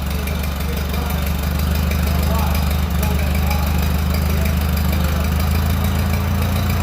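A small crank-start tractor engine runs steadily at idle with a rapid, even chugging beat, close and continuous.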